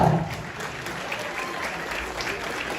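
Hearty applause fills a hall at the Smart Cinema Award 2025 Chhattisgarhi film ceremony as the crowd claps for an entire group, a sustained, close wash of hands with no pauses.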